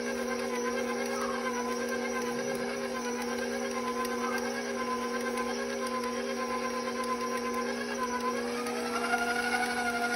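An electric mixer hums steadily and evenly while blending M&M cookie dough after an egg has been added, its motor whine constant and close throughout with slight variations in load.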